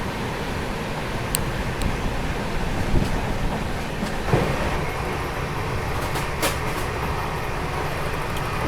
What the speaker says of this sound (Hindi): नागदा से चलने के बाद में अपनी ट्रेन 130 की रफ्तार पर चल रही है भाई।